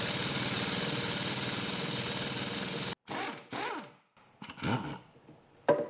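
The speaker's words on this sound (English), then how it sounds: "if you run the impact the right way, it should pull that stud" An impact wrench pulls a stud from a blown-up Chevy 327 engine, a dense continuous rattling whir for about three seconds, then several short separate hammering bursts with pauses between them.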